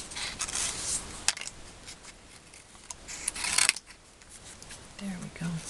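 Scissors cut out the little hat for a paper snowman craft, with close, soft rasping snips and swishes in short bursts and a few sharp clicks between them.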